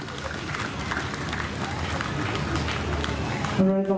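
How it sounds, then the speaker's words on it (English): Applause and crowd noise from a fair show audience, steady and moderately loud over roughly three and a half seconds before it cuts to a brief tone. "let's give another round of applause"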